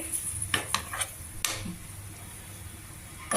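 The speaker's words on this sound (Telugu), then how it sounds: "సిమ్లో పెట్టే వేయించుకోవాలి ఉల్లిపాయ ముక్కల కలర్ మారుతుంది" Onion pieces fry in a pan on a low flame, giving a soft steady sizzle. A few light clinks and scrapes of a utensil against the pan come early on, then the sizzle continues alone.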